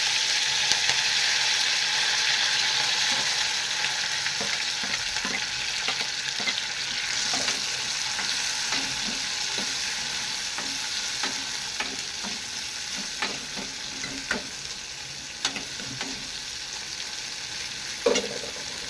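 Green chillies, curry leaves and fenugreek seeds sizzle in hot oil with a dense, continuous crackle that fades slightly over time, broken by occasional spoon scrapes and taps and no voices.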